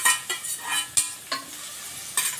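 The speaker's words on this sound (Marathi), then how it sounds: "आता आपण त्याच्यामध्ये कांदा टाकतोय" Finely chopped onion frying in a pan for dal tadka, a bright crackling sizzle broken by several sharp scrapes and stirs of a utensil, close and loud.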